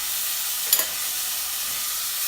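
Corn, carrots and zucchini sizzling in a pan, a constant bright frying hiss with a quick scrape or clink of stirring near the start.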